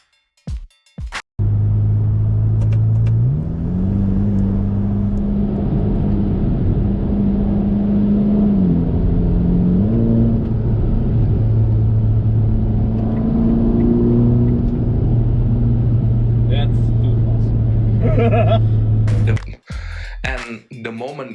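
A Ferrari Roma with its drive mode set to wet accelerates hard, the engine note climbing through several gear changes in a loud, sustained, rising roar that ends in a brief lull.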